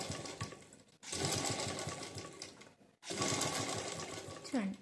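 An electric sewing machine stitches border cloth onto a blouse in two loud, steady whirring runs separated by short pauses, close up, with a voice briefly heard near the end.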